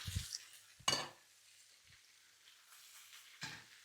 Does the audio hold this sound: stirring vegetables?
yes